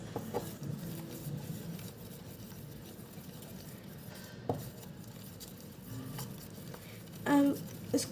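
Slime made from Ponds powder being stirred and mixed in a container, with soft repeated squelching and scraping strokes and a few brief knocks, heard close and without talk.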